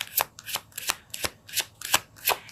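Tarot cards are shuffled by hand in quick, rhythmic riffles, about eight crisp bursts in under three seconds, close and clear with no talk.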